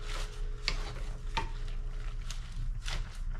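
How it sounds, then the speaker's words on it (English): Spinach sautéing in a pan for a vegan-friendly New Orleans-style dish, with a steady low sizzle broken by a few sharp utensil scrapes and taps against the pan, close and moderately loud, with no voices. "So this is wilting down"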